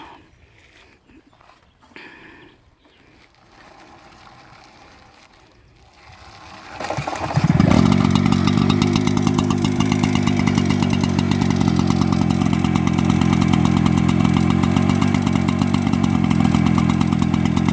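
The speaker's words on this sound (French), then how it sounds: "C'est sympa le petit bruit du turbo." A rare Peugeot 103 Turbo 16 moped engine catches after a quiet lead-in, then runs steadily and loudly with a buzzy two-stroke drone that holds without letup.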